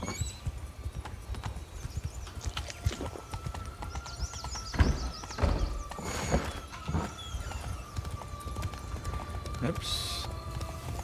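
Horse hooves clip-clop at a gallop in The Witcher 3: Wild Hunt, Blood and Wine, a steady rhythmic beat up close, with a whinny and game ambience and someone talking over it.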